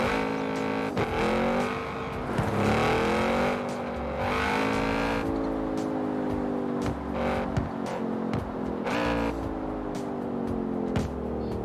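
An Audi RS with an inline three-cylinder engine revs and shifts repeatedly in Forza Horizon 4, rising and falling engine notes with gear changes, close and steady with no talking.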